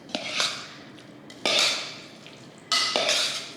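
Boiled potatoes are stirred into potato salad dressing in a bowl, with three separate scraping, slopping strokes of a spoon, close and fairly loud, with no talking.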